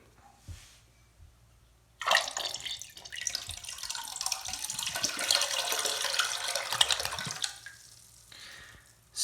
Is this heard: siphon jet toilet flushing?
yes